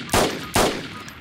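Two loud, close gunshots about half a second apart ring out in DayZ, each with a sharp crack and a short decaying tail.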